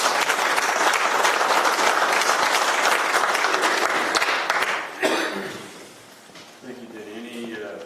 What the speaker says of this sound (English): we all ought to give them a round of applause